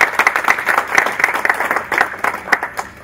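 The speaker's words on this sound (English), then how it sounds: "And I think it deserves a big clap" Applause from an audience at a judicial conference on arbitration law, dense overlapping claps filling the room, steady and fairly loud throughout with individual sharp claps standing out.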